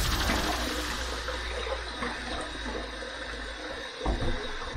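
Water running from a bathroom tap to wet the face before shaving, a steady hissing stream that continues throughout with a brief splash near the end, no voices.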